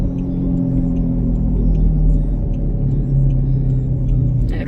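A 2006 Pontiac G6 accelerates in a steady, loud, close engine drone from inside the car, with a constant low rumble throughout.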